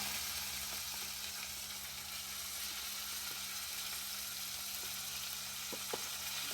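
Onion paste frying in beef fat for a Bangla beef curry, a steady low sizzle running the whole time with a few faint stirring clicks, no voices.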